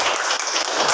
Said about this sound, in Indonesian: Tepuk tangan buat kelompok Umar bin Khattab.